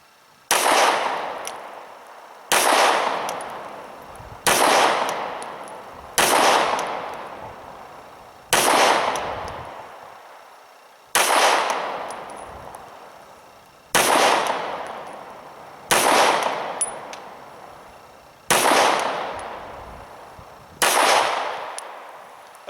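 Ten loud, sharp shots from a Glock 26 9mm compact pistol at a shooting range, fired singly at a slow, fairly steady pace of about one every two seconds, each followed by a brief decaying echo, with no talking.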